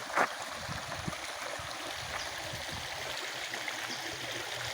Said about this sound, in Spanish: Ya queda es un riachuelito aquí.